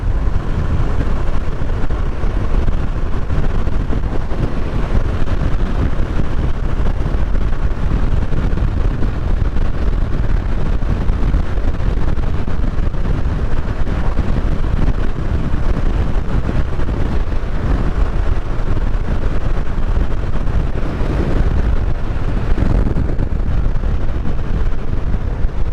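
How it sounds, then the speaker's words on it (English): Loud, constant wind roar buffeting the microphone while riding a 2023 KTM 1290 Super Adventure S motorcycle, a dense low rumble with engine drone underneath, unbroken and without talk. "Lot of wind."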